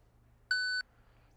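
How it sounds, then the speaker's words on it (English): A single clean electronic beep, about a third of a second long, sounds from a Capto EZ unit as it reconnects, set against a quiet background hum. "gave me that beep, now it's back connected."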